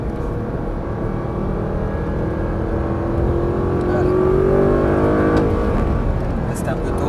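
An Audi R8 accelerates on a race track at Lohéac, its engine droning steadily from inside the cabin with a rising tone toward the middle of the run, under talk from the people in the car.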